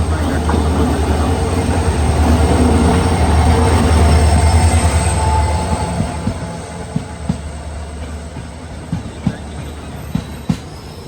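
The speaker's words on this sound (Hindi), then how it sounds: "तो फाइनली हमारी ट्रेन निकल रही है संकलेशपुर।" Gomateshwara Express pulling out of Sakleshpur station, a loud, steady rumble of rolling railcars for about six seconds that fades into rhythmic clickety-clack wheel beats and sharp rail knocks, with a faint squeal overhead.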